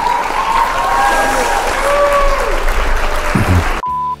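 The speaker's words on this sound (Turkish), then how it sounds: "Bu videonun sonuna doğru gelirken de böyle bir alkış efektiyle girsek mi acaba?" Applause effect with a crowd clapping steadily under faint tonal sounds, ending abruptly with a short beep tone.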